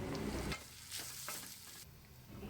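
Spices and garam masala for a whole red lentil usal sizzle and get stirred in a pan, a steady close fry with scraping stir strokes and no voices.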